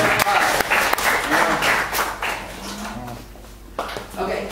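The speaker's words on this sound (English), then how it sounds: "Give Lee a round of applause." Audience applause for a volunteer at a live talk or presentation, a burst of clapping that swells and fades across a few seconds, mixed with voices and some scattered noise.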